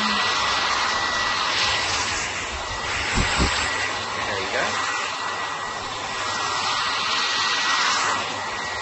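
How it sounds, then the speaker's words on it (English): A hair dryer blows with a continuous loud whooshing drone, steady throughout with slight swells, a few low thumps partway through. "Here, I'll use the hairdryer."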